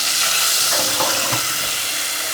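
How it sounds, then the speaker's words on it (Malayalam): A quarter cup of water poured into a hot pan of lightly roasted chilli powder makes a loud, continuous rushing hiss and sizzle that stays close and steady throughout. "അതിലേക്ക് ഞാൻ ഒരു 1/4 കപ്പ് വെള്ളം ബാക്കി വെച്ചിരുന്നത് ഒഴിച്ചു കൊടുക്കുകയാണ്."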